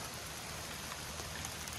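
Steady rain falls outdoors onto beehives, a dense, even hiss of drops that stays constant and fairly loud throughout the short stretch, with no voices.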